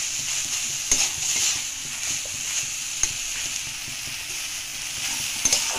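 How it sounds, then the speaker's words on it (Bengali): Bitter gourd kebabs with prawns frying in plenty of oil give a steady close sizzle and hiss, broken by a few scraping stirs and light clicks, with no voices. "এটাকে ভালো করে ফ্রাই করে নিতে হবে।"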